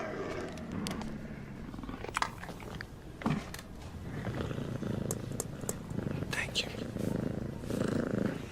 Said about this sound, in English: It's a puma.